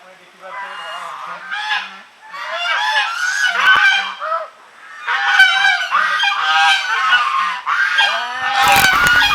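Geese at a temple honk continuously and loudly, several birds calling over one another in overlapping nasal bursts, close by, ending with a short clatter of noise.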